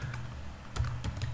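Quick keystrokes rattle on a computer keyboard while code is entered, a short burst of close clicks over a low steady hum with no talking.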